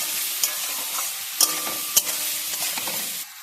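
Nora fruit sautéing with turmeric powder in a pan, a steady close sizzle broken by a few sharp scrapes and clacks of a spatula stirring, then cutting off abruptly near the end.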